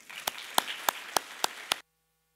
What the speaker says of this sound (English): If y'all would, greet him with a hand clap.